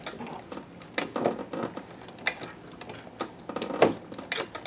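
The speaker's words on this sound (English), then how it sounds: "with the servo motor and the reducing gears and the monster wheel, it's pretty easy to sew a stitch at a time." Slow, single stitches from a Techsew 611 walking foot sewing machine driven by a Consew servo motor through reducing gears and a large handwheel, a series of soft, irregular mechanical ticks and knocks with no talking.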